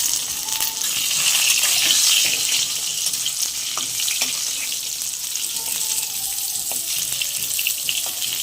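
Water is poured into a hot pan holding spiced oil with chili powder, turmeric and salt for a yogurt eggplant dish, giving a rushing splash and sizzle that settles into a steady bubbling hiss.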